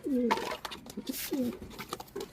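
Soft, repeated coos from a nearby female pigeon, low throaty calls in short bursts with faint background rustling.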